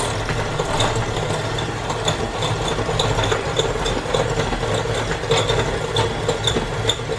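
A constant motorized whir drones steadily, a small electric mixer whipping dalgona coffee with water without pause, faint rattling ticks mixed in.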